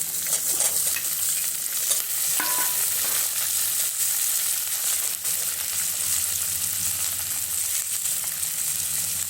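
Potatoes frying in hot oil, a steady close sizzle with occasional scraping and stirring from a spoon in the pan, no talk.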